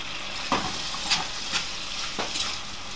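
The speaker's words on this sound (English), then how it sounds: "Stir that around just a little bit, let that kind of soften and break down." A chicken and sausage stew with beans is stirred in a pan over a steady close sizzle, with several scraping strokes of the spoon at irregular intervals.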